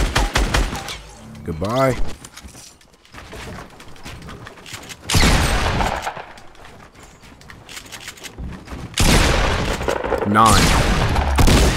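Dense bursts of rapid gunfire and booms in a Fortnite Battle Royale match, loud and repeated in clusters with brief lulls, while a player talks over the shooting.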